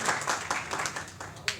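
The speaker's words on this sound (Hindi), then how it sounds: "तालियां, जोरदार तालियां राय साहब के लिए।" Audience at a live stage comedy show clapping in steady, dense applause that fills the whole moment with repeated sharp bursts, a louder clap spike near the end, and no clear voice on top.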